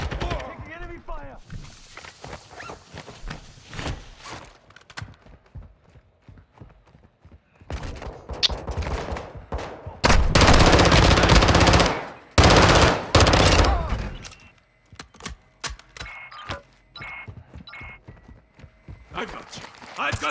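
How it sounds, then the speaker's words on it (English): Enemy gunfire in Call of Duty MW2 DMZ during a Building 21 raid: loud sustained automatic bursts from about 10 to 14 seconds, with scattered shots and game noise around them and voices talking earlier. "Enemy fire."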